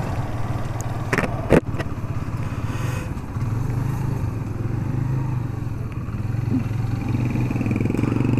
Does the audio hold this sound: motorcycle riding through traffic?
yes